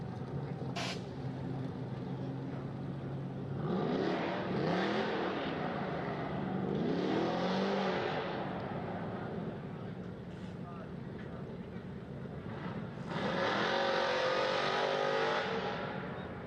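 Race cars, a Blazer and a Camaro, rev and accelerate at Hudson Speedway, with engine roars rising in pitch and swelling in waves over steady crowd and track noise. A commentator talks over part of it.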